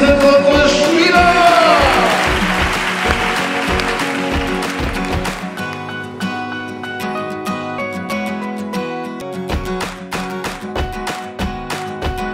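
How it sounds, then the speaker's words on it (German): A stadium crowd in the stands at a youth football final, the VfL Wolfsburg Junior Cup, cheers and whoops loudly, then the roar gives way to sustained applause and scattered shouts that carry on throughout. "meine Damen und Herren, auf den Tribünen einen riesen Applaus"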